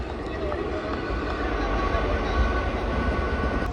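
A train rumbles past a cricket ground with a steady, continuous roar, while a person talks over the noise.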